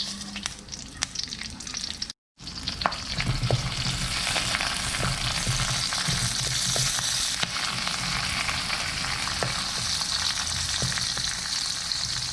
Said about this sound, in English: We are going to lightly brown them